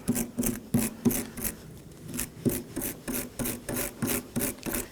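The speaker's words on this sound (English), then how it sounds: "Gonna wipe any dirt and debris off with a wire brush." A wire brush scrubs dirt and debris off a parking brake adjuster from a 2015-2023 Nissan Maxima, giving a rapid series of close, rhythmic scratchy strokes, about two per second, with no talking.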